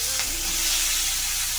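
Vegetables dropped into hot oil already seasoned with tempering spices, giving a steady close sizzle and frying hiss that holds evenly throughout.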